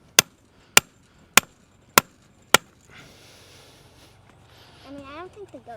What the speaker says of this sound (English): tap it in so that it's actually good.